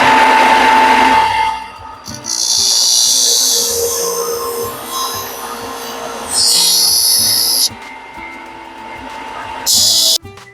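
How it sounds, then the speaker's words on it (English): Power sander running in a woodworking shop in Austin, Texas: loud, high-pitched whining bursts that start and stop several times, with brief pauses and clunks between runs. "I'm gonna go ahead and pull out our sander here."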